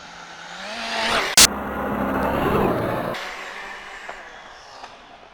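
A Rlaarlo AK787 twin-motor RC speed car screams past close at about 100 mph, a rising whine that peaks with a sharp snap then fades quickly into the distance.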